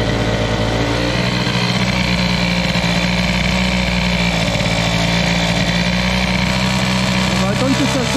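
Moped engine with a loud Doppler exhaust running continuously, a steady droning buzz close by, with a voice speaking over it.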